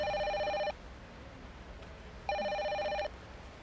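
A cellphone ringing indoors: two bursts of a bright electronic ringtone, each under a second long, separated by a pause, fairly close and clear, with no speech.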